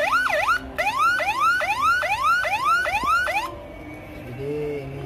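A homemade siren module under test gives a loud, fast, rhythmic rising wail for about three seconds, then cuts to a lower, softer tone.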